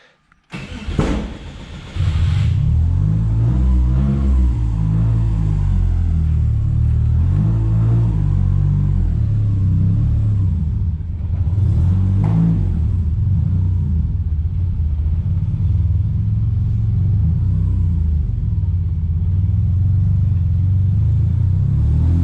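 A Subaru Impreza with a turbocharged EG33 engine starts up and drives off, a loud steady engine rumble with rising revs and gear changes close to the microphone.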